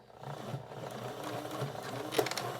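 A sewing machine stitches through thick fabric, a steady close mechanical whirr with a rhythmic needle pulse and a brief louder clack near the end.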